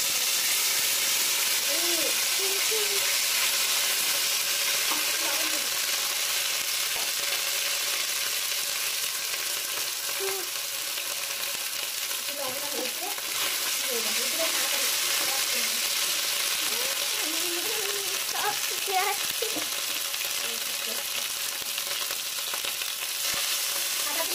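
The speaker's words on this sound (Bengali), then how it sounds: "খুব সমস্যা হচ্ছে নাড়াতে, নাড়াচাড়া করতে পড়েই যাচ্ছে প্রায়" Vegetable khichuri with winter vegetables being stirred in an overfull pot, a steady background sizzle broken by scattered scraping and clinking of the spoon against the pot, close and continuous with no voices.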